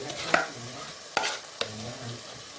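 Mashed potatoes and boiled eggs being stirred into a South Indian sambar gravy, with a few soft scrapes and clinks of the spoon against the pot over a quiet simmer.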